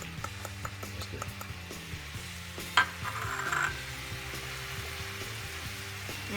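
Onions and peas sizzle steadily in a frying pan for garden chicken pasta, with soft scraping and clinks of stirring and one sharper knock midway, close and moderately quiet.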